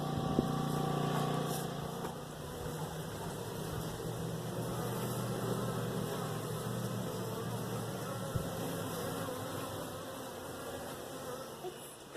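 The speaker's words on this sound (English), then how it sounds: "It's our bees" Dense, steady buzzing of many honey bees fills the clip, a close continuous hum with small fluctuations and no talking.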